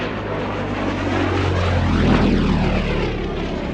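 A de Havilland Chipmunk's propeller engine drones loud and close while taxiing, a steady rumble with a slowly shifting pitch as it rolls past.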